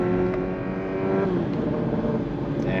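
Infiniti Q50 Red Sport 400 twin-turbo accelerating hard, its engine note climbing loud and close before shifting down into a rougher, steady drone.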